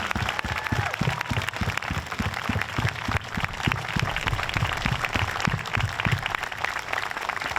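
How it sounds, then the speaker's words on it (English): An audience at a Veterans Day ceremony in Westbrook claps for veterans, dense, steady applause that carries loud and continuous throughout with no speech over it. "give you a round of applause for all the work you've done"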